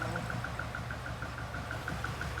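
A twin-cam British sports car engine, a barn find brought back to life, idling close by with a smooth, even rumble and a faint regular ticking pulse, steady throughout.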